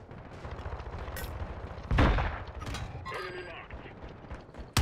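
Call of Duty Warzone gunfire on Rebirth Island: close bursts of shots and a heavier blast over constant game noise, with a voice talking in between.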